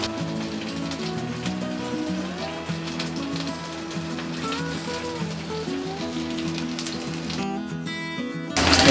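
Fish frying in hot oil with one side down, a steady crackling hiss running beneath louder background music throughout, with a brief loud burst at the very end.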